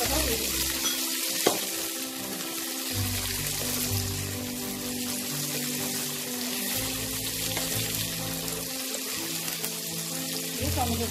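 Chopped tomatoes hit a frying pan already cooking ginger and garlic for baingan bharta, setting off a steady, close hissing sizzle that carries on throughout, with stirring scrapes and a brief voice.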